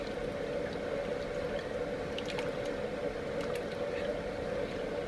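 Pear preserves with dissolving sugar stirred in a pot, a steady wet bubbling and squishy liquid churn with faint clinks, close, even and continuous.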